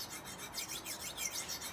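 Cheap steel butter knife being sharpened on a 1000 grit stone, a soft steady scraping rub repeating in quick back-and-forth strokes, close and fairly quiet with no talk.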